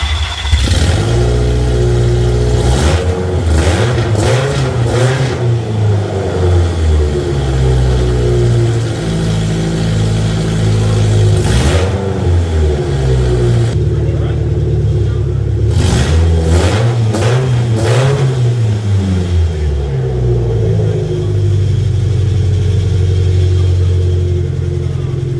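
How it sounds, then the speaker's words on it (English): An offroad-built Ford Focus engine fitted with a Dynovox header and no exhaust revs repeatedly. The loud, raw, raspy blips rise and fall over a rough idle, close by, with no talking. "right now, mind you, there's no exhaust on this, so we are just hearing the pure header"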